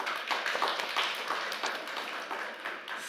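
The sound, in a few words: audience applause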